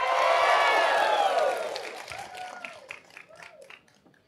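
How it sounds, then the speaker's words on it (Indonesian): A crowd gathered around a visiting politician breaks into loud clapping and some cheering, which fades over a few seconds into scattered claps and murmuring voices. "Tepuk tangan dulu."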